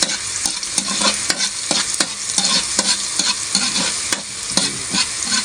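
Garlic frying in a pan for cheesy spaghetti, a loud continuous sizzle punctuated by a regular series of sharp scraping stirs, close up with no voices.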